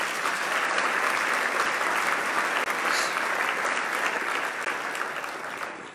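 Sustained applause from a luncheon audience at a plenary meeting, a dense steady roar of clapping lasting throughout and easing slightly near the end.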